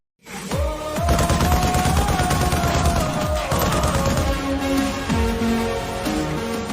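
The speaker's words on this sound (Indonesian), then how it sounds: "menembak mereka semua secara membabi liar" Loud, rapid bursts of automatic gunfire, a dense continuous fusillade of shots lasting several seconds, with no speech.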